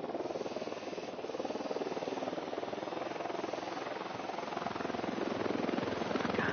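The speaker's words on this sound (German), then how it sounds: "Hubschrauber im Anflug." Helicopter approaching in the video game Ghost Recon Wildlands: a continuous, fairly faint rotor whir and buzzing drone that holds steady and grows slightly louder toward the end, with no talking.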